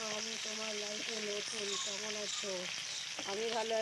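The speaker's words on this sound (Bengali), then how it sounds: "কড়াইয়ে তেল দিয়ে একটু তেজপাতা জিরে ফোড়ন দিয়ে দিলাম, দিয়ে আলু কটা দিয়ে নিলাম" Potatoes frying in a wok of oil with bay leaf and cumin seeds tempered in: a steady, soft sizzle beneath a prominent, tuneful voice.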